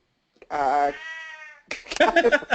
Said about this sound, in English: very vocal cat. He does that all night and all day.